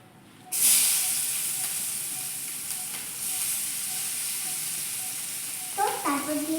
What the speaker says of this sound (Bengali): তেলটা গরম হয়ে গেছে। এবার আমি দিয়ে দেবো পেঁয়াজ কুচি।